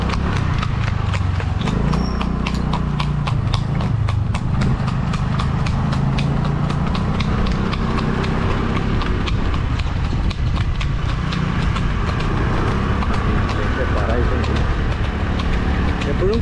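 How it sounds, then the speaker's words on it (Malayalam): A horse running on a dirt road during riding training, hooves clopping in a quick steady rhythm throughout, close and loud over constant wind and motion noise, with an engine faintly underneath. "കുതിരേനെ ഓടിക്കുന്നത് മണ്ണിട്ട റോട്ടിൽ കൂടെയാണ്"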